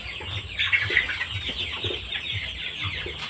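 Chickens cluck and murmur steadily at a small poultry farm, several birds close by with soft, overlapping calls and a few brighter squawks, and no voices.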